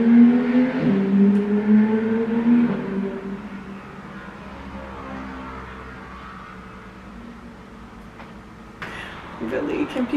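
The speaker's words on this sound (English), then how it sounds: "There's so many other options than to be driving by my window making all this noise." Cars drive past outside a window as a steady low road rumble with a rising engine swell, heard beneath someone talking over it.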